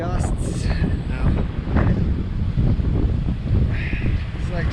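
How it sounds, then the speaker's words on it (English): Strong wind gusts buffet a moving RV in a windstorm, a steady roaring rush with broadband noise swelling and easing throughout, under faint occasional voices. "It's like driving in a windstorm."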